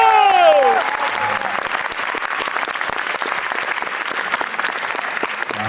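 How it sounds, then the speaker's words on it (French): A theatre audience in Liège bursts into sustained applause, dense and steady clapping filling the hall for several seconds after a brief voice at the start. "Quand tu vas commencer à applaudir, je veux que tout le théâtre s'enflamme et applaudisse."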